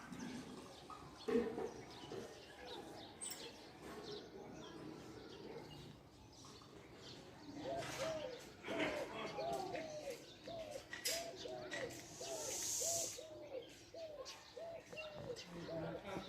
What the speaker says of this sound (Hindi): यहाँ ऊपर कहीं वो कोयल बैठी है जिसकी आवाज़ मुसलसल आ रही है